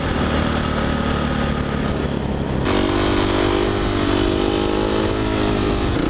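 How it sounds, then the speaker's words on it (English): A supermoto motorcycle engine revs hard and steadily throughout, loud and close, with a pitch shift midway as it climbs during a wheelie. "Wheelies for the people."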